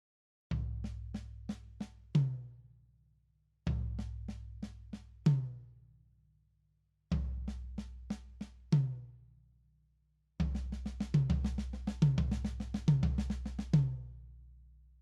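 Six-stroke roll drum fill voiced across floor tom, snare and rack tom, played in four loud close bursts of rapid strokes with accents, each phrase ringing out briefly before the next, the last pass denser.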